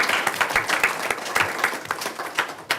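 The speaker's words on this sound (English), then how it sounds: "let's give them a round of applause for that" Applause from an audience at a school board meeting, a brisk patter of many hands clapping at moderate volume for a couple of seconds.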